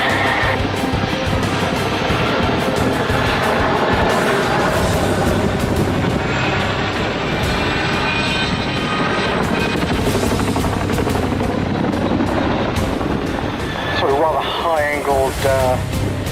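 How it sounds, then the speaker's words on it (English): A Chinook helicopter performs a sharp handbrake turn at an air display, its rotor thudding loudly and continuously with a shifting whine as it swings round, while a voice talks over it. "Chinooks can do a handbrake turn"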